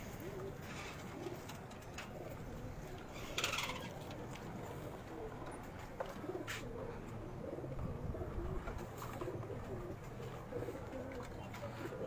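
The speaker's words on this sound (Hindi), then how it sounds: "तकरीबन 15-16 कबूतर हैं।" About fifteen or sixteen pigeons coo softly and repeatedly in a steady low murmur, with occasional faint chirps and light clicks over a constant background hum.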